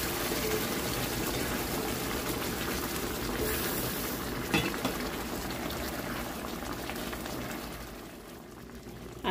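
Ranchero pork chops simmer in a pan after a little water is added, with a continuous close bubbling and hissing that stays steady and fades slightly toward the end.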